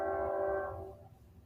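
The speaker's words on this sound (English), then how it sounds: "sound like a train going by" A passing train sounds a loud, sustained multi-tone horn that holds steady for most of a second and then fades, over a low rumble of rolling stock.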